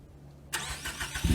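A Ford Focus SE fitted with straight headers cranks and fires up abruptly after a moment of quiet, bursting into a loud, raspy engine roar up close.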